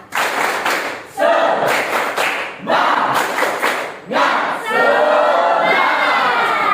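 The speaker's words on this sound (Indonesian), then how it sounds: "Kita akan melakukan gerakan tepuk semangat." A school class performs the 'tepuk semangat' spirit clapping chant, with groups of children's voices calling out in loud repeated bursts over rhythmic clapping, close and energetic.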